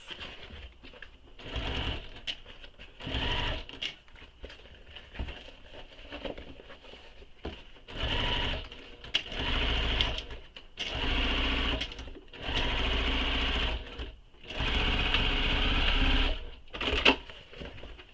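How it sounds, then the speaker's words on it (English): A sewing machine stitches a bag in repeated bursts of a few seconds each, whirring loud and close with short pauses between runs as the fabric is smoothed under the needle. "Just trying to smooth everything out under my needle so that I don't get any pleats."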